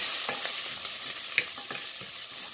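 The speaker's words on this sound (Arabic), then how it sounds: "وهقلب على طول عشان البصل ايه مش عايزاه ياخد لون، بس يدبل معايا شويه" Onions frying in a pan and being stirred, with a steady soft sizzle and scattered light scraping strokes of the stirring utensil, fairly close and alone without talk.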